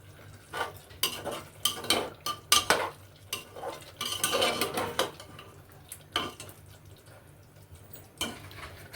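Mutton rezala is stirred in a pot over a full flame, making irregular scraping and clanking of a utensil against metal over a soft sizzle, with no voices.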